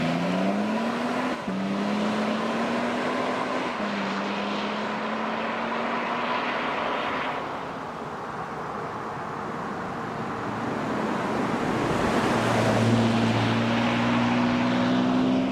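A 2025 Toyota Sequoia TRD Pro hybrid SUV drives with a steady engine drone that rises and shifts in pitch through gear changes, heard continuously and fairly loud.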